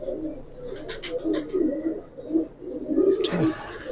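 A long-feathered pigeon coos in repeated low rolling phrases close by, while a voice talks intermittently over the calls.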